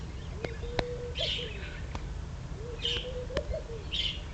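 Birds chirp and tweet outdoors in repeated bursts of high calls over a steady low rumble, with short whistled notes recurring through the stretch.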